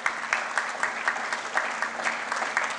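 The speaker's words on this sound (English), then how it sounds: "I would like you all to give them a thunderous round of applause." Audience applause at a medical expo event, a dense, loud burst of clapping from a crowd with a steady rhythm of overlapping claps that holds throughout the short stretch.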